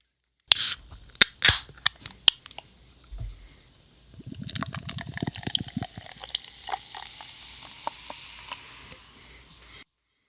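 A few sharp metallic clicks and a pop as a beer can is cracked open, followed by a fizzy hiss and pouring of a dark beer, close and fairly quiet.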